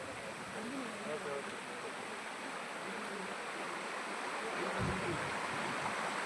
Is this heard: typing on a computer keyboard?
no